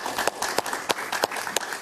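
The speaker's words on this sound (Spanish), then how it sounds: "Un aplauso para Alonso Moleiro, por favor." Studio audience on a talk show gives a short round of applause for Venezuelan journalist and writer Alonso Moleiro, the claps sparse and uneven, a handful of sharp individual hits standing out over a thin, quiet patter.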